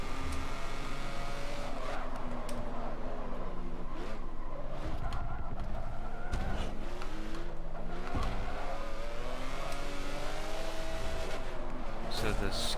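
Racing engines in Forza 7, a Ferrari and a Lotus Elise dueling closely, rising and falling revs and a hard tyre squeal under continuous excited commentary.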